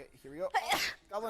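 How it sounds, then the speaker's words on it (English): A single sharp sneeze bursts out between bits of casual chatter among people playing a game, close and fairly loud, with talk continuing right after. "Oh, bless you. Thank you. Sneeze."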